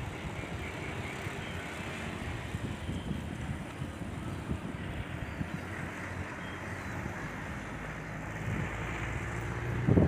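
Wind blows steadily at the coast, a continuous broadband rush buffeting the microphone, with low rumbling gusts that swell slightly near the end.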